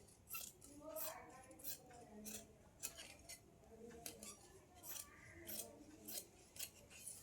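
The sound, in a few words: scissors cutting blouse fabric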